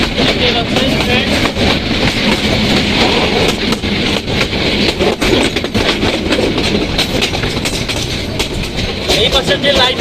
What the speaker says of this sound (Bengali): কাউনিয়া থেকে পীরগাছার উদ্দেশ্যে লালমনি এক্সপ্রেস ট্রেন ছেড়ে দিয়েছে।